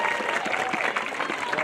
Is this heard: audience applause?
yes